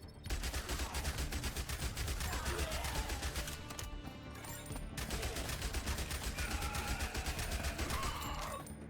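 SMG fire in the zombie shooter game Zombie Survivors, rapid continuous bursts of gunfire rattling steadily with brief pauses, layered over game effects.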